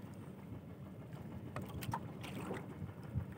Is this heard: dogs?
no